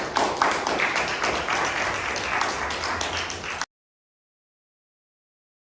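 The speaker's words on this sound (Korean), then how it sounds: "우리 목사님 나오실 때 한번 박수로 맞아주시기를" A church congregation claps to welcome the pastor to the pulpit at a Sunday revival service, with dense, steady applause for about three and a half seconds before it cuts off abruptly.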